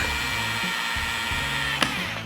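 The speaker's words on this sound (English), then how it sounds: "there's so much torque coming out of this drill with less speed" A cordless power drill runs steadily under load, a continuous motor whine with a brief sharp knock near the end, close and fairly loud with no talk.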